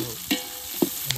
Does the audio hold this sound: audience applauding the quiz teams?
no